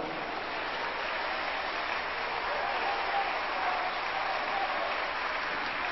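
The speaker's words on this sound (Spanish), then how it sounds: "Dele palmas al Señor, hermano." A church congregation clapping during a Spanish-language sermon, a continuous wash of many hands, fairly faint and distant and steady throughout, with no clear voice on top.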